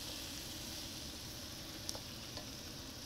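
Zucchini, onion and carrot sizzling steadily in a hot pan as they are stirred, a continuous soft frying hiss with a couple of faint utensil clicks, no voices.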